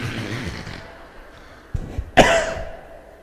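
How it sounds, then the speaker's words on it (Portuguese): A few sharp coughs from a lecturer during a talk ring out, the last one loudest and followed by a brief rasp, after a stretch of quiet breathy noise. "Ao longo da palestra eu vou tossir muito."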